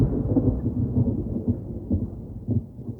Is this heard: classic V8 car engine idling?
no